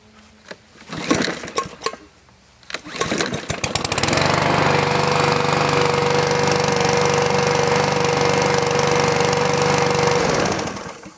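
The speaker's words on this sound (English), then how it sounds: "we're going to fire up a push mower now and see how it ranks." A few clanks and pulls, then a push lawn mower engine roars to life and runs loud and steady nearby before cutting off.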